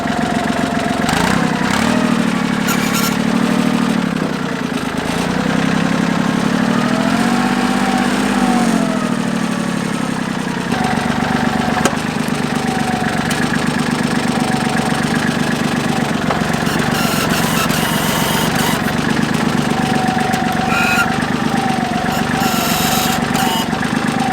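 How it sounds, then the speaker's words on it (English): A tractor engine idles and revs steadily and loudly for a long stretch, its pitch rising and falling slightly as a big, heavy hydraulic grapple works to lift hay bales. "These bales are just a little bit too heavy for my tractor with this big heavy grapple on here."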